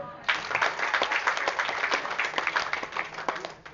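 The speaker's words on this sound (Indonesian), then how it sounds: "Tepuk tangan dulu." An audience breaks into applause after a brief lead-in, many hands clapping in a thick, slightly uneven wash with a few sharper individual claps standing out, tapering a little toward the end.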